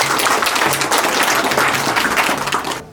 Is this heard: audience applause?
yes